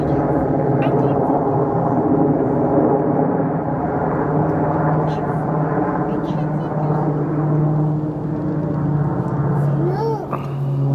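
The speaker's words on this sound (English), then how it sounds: "There's the helicopter." A helicopter flying over a December wildfire, its steady droning rotor and engine hum close and continuous throughout, with faint voices and other sounds in the background.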